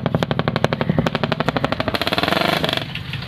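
An experimental dirt bike engine fires up and runs with a rapid, loud, staccato popping beat that speeds up into a steady rattling putter, close by and without talk.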